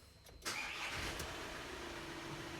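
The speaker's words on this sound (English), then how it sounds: "So we'll crank her over." A 2013 VW Amarok automatic cranks briefly and catches, its mid-pitched engine settling into a steady, close idle with no talking.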